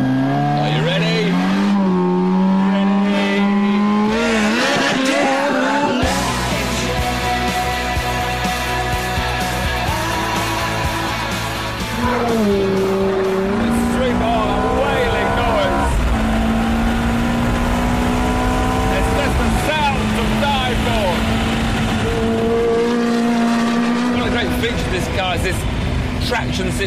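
A Ferrari F430 Spyder makes a launch-control start, its engine held high then screaming up through the revs with rising whines and gear changes, tires squealing, loud and close, with someone talking over it.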